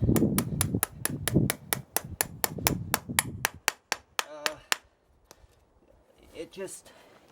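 A rapid, steady series of sharp metallic hammer strikes driving nails through a horseshoe into the hoof horn rings out close by, then slows and stops, followed by a few faint knocks.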